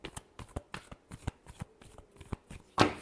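Tarot cards shuffled by hand in a series of quick riffling bursts, close and soft, ending with a louder final flutter.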